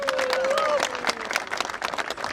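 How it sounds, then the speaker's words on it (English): An audience at a political event applauding, with a burst of clapping and crowd noise close by and a voice mixed in. "How about a big round of applause for Suk?"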